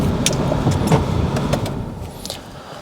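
A Subaru BRZ sports car heard from inside while driving, with a low road and engine rumble, brief clicks and rattles, fading slightly toward the end.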